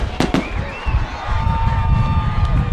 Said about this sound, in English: They may run out of fireworks before the game's over